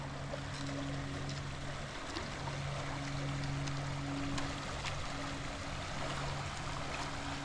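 Creek water flowing steadily at the foot of Hidden Lake in Glacier National Park, Montana, a continuous close rush and trickle with a low steady hum beneath it and no talking.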